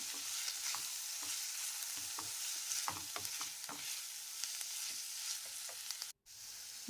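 Chopped tomatoes with mint sizzle steadily in a pan while a spoon scrapes and stirs at intervals, with a brief dropout near the end and no voices.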